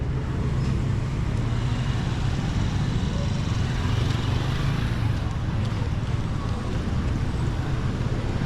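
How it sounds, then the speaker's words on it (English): Steady street traffic on Magsaysay Ave in Olongapo City, Philippines, a continuous broadband roar of passing cars and other vehicles heard from the roadside, loud and unbroken throughout with no talk. "gotta watch the traffic"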